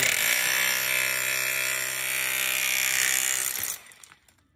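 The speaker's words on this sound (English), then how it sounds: "The reversible, or the exchangeable Bulldog hammer drill. From chisel hammer to hammer drill." A Bulldog hammer drill in chisel mode chips stucco from around an entry door opening, a loud, steady roar with rattling, chipping texture that runs continuously, then cuts off abruptly near the end, leaving quiet.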